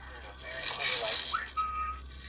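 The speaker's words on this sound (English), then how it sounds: "this next one is a definite whistle" A faint, thin whistle drifts through a noisy, eerie recording, a short rising note followed by a sustained tone under a hiss of background static.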